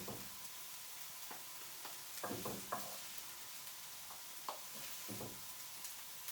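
Chickpea patties browning in a frying pan give a quiet, continuous sizzle, dotted with soft taps and clinks of a utensil against the pan.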